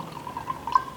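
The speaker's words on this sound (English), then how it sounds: "I am adding some water in this beaker" Water poured into a lab beaker for a salt solution: a faint, short trickle with a few soft drips over a steady low background.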